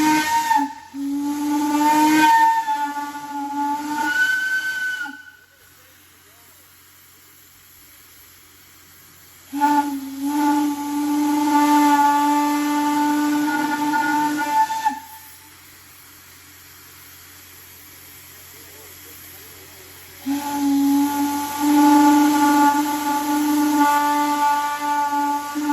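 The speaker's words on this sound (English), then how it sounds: "We're going to blow a little water out of the boiler here on 85." Steam locomotive 85 blows water out of its boiler at a railroad festival, three long loud bursts of hissing steam with a tonal, whistle-like ring, separated by near-silent pauses.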